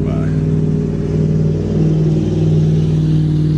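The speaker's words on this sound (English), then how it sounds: "Let this truck go by." A truck drives past on a road, its low engine rumble and droning hum loud and steady throughout, swelling slightly as it nears.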